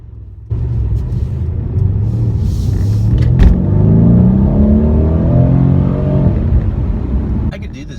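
A 2016 Mercedes-Benz C63 AMG engine starts up and growls, its deep rumble building into a rising rev as the car accelerates, loud and close, before dropping off near the end.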